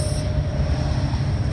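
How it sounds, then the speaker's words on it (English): A Norfolk Southern grain train rumbles past, a loud steady low roar of rolling wagons with a faint high whine, heard alone. "It's a Norfolk Southern grain train."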